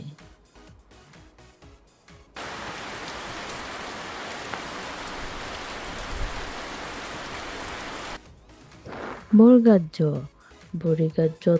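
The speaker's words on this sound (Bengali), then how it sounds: "ছাতা মাথায় বৃষ্টি পড়ে" Steady rain falls in an even, hissing shower for several seconds, framed by quieter moments and followed by a voice singing.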